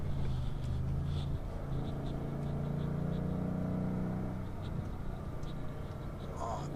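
A car with upgraded suspension accelerates along a mountain pass, a steady engine drone and road noise heard from inside the vehicle, with faint brief clicks near the end.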